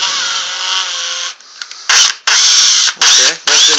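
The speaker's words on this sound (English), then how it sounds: "got to go with a bigger drill bit. I recommend just under 1/4 inch." A drill with a bit just under 1/4 inch bores into Sega Genesis console plastic, a loud steady whine followed by several short, sharp bursts as the trigger is pulsed.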